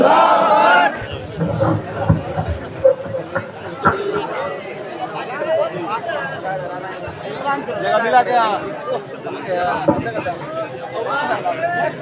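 At an Urs religious gathering, a large crowd loudly answers a takbir slogan call with a massed chanted Allahu Akbar, many voices roaring together before settling into a dense, ongoing crowd babble.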